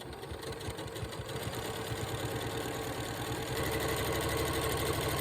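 A sewing machine runs steadily while chain piecing a four-patch quilt block with a quarter-inch seam, a continuous rhythmic mechanical hum that grows slightly louder partway through.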